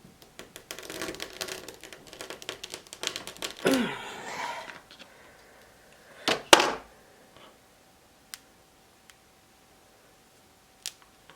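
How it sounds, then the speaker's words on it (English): A knife cuts through a block of melt and pour soap with loofah inside, making a few short, sharp scraping slices and then isolated faint clicks in a quiet room. "this last chunk I'm going to cut into two"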